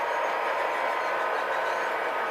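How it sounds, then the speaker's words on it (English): A train rolls past steadily with a continuous broadband rumble and hiss, one of its wheels reportedly squeaky, heard at a moderate distance without pauses and without voices. "I hear the train with squeaky wheel."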